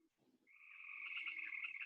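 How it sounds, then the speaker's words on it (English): A frog croaking next door, a faint, distant trilling croak that starts after a short pause and holds steadily, with quiet background sounds just before it. "I think I heard a frog"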